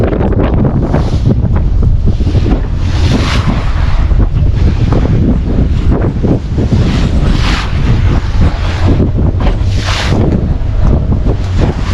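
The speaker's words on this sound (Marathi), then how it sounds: "बोट कसली आपटते समुद्राच्या पाण्यावर ते बघा जबरदस्त वेव्स आहेत आज" Heavy, continuous rush of rough sea waves and wind buffeting the microphone, with repeated slaps and thuds of a boat hull pounding through the water on a ride off Malvan on the Konkan coast of India.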